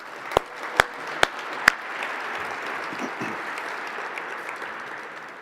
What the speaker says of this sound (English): So a round of applause for the sponsors.